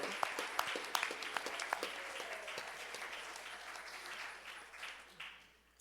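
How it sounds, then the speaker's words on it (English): A church congregation applauds first-time visitors during a Sunday service, the clapping distant and fairly faint, with a few crisp individual claps at the start before it thins and fades out. "And we have a round of applause for you."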